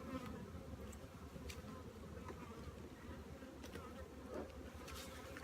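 Young honeybees hum around a freshly opened hive, a dense, steady buzzing close by that keeps going throughout, with no voices.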